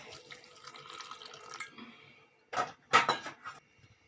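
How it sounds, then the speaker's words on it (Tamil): Water is poured into bread pakoda batter in a home kitchen: a quiet stretch of faint handling gives way to short, splashy bursts of pouring near the end, close and fairly soft. "தேவையான அளவு தண்ணி விட்டுக்கலாங்க"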